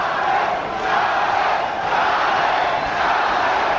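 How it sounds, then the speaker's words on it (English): Boxing crowd chanting for Julio Cesar Chavez at his February 1996 bout against Scott Walker, a dense, steady roar of many voices filling the arena, swelling in waves throughout. "Crowd chanting for Julio."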